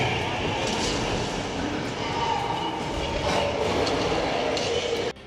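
A Universal Studios tour tram rolls along, giving a steady rumbling ride noise with faint wheel clatter and occasional soft squeals, loud and continuous and ending abruptly.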